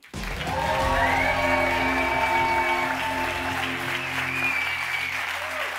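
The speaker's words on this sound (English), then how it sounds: "So please give her the loudest applause that you could possibly come up with." Audience applause at an award show for a guest taking the stage, loud sustained clapping from a large crowd that starts abruptly and holds for several seconds.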